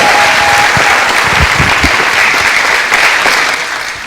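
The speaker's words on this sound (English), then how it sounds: "let's give them another round of applause." A crowd gives another round of applause to a panel at a public schools event, dense and loud clapping holding steady for several seconds before tapering slightly at the end, with no speech over it.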